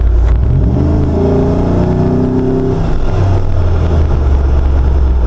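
An LS3-powered Jeep JK accelerates from inside the cabin, a deep engine drone that rises in pitch, then settles into a low, steady rumble with road noise.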